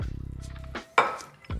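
Shrimp fatteh ingredients, including tahini and salt, stirred in a bowl at close range, with a rapid run of scraping strokes and then a couple of sharp clinks of utensil on the dish.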